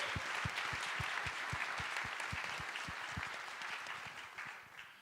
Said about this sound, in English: give Preet and the DesignX team a quick round of applause